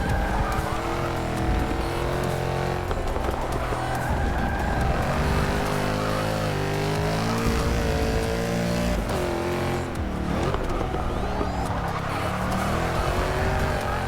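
A race car engine revs hard on throttle with tires squealing and skidding, a loud continuous roar rising and falling in pitch throughout.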